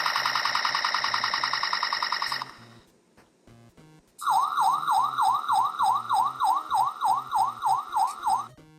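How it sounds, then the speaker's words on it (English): A loud electronic siren effect from a Takara transforming toy wails in a fast looping up-and-down pattern, following a stretch of rapid rattling machine-gun-fire electronic bursts and a short pause. "You get machine gun fire or sirens."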